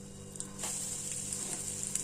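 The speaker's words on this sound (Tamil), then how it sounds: "சோம்பு தாளிக்க போட்டுக்கலாம்." Fennel seeds hit hot oil for tempering a tomato side dish, giving a steady close crackling sizzle that flares up after a soft start and keeps spitting with small pops throughout.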